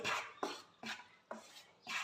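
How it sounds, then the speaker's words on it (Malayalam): Rhythmic scraping of a spoon stirring rice flour in a pan, about five strokes in quick succession, close and fairly quiet. "മാവ് നന്നായിട്ട് ഒന്ന് ഇളക്കി കൊടുക്കാം നമുക്ക്"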